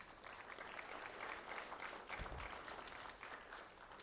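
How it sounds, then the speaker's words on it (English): An audience at a sheriff's office event applauds volunteers with a steady patter of clapping, fairly faint and distant, lasting the whole stretch without speech. "So a round of applause for our Voice volunteers."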